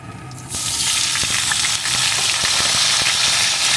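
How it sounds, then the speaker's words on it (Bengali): Potatoes and flat beans (shim) fry in oil in a pan, giving a loud, close, continuous sizzle that swells suddenly after a quieter start, with occasional light utensil taps and no talk. "বেশ কিছুক্ষণ সুন্দর করে ভেজে নেব"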